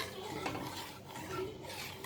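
Milk cooks down for palkova in a pan while a utensil scrapes and stirs steadily, giving a soft continuous swishing with light scraping against the metal, faint and close, with no voice.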